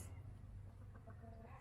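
Several roosters, eight chubby birds at Donkmeer in Belgium, give a few faint, soft clucks over low rumbling background noise in a short stretch with no talking.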